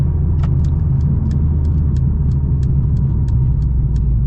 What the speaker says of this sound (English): Ooh, it makes pops out of the exhaust.